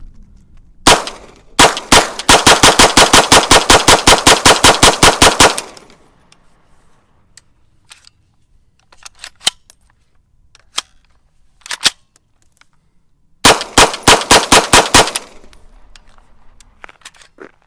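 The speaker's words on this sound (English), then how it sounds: "Let's do a full mag dump." A UTAS UT9M 9mm pistol caliber carbine empties a full magazine in a rapid, evenly spaced string of loud, close shots lasting about four seconds, with a few scattered single shots afterward and a second fast burst near the end.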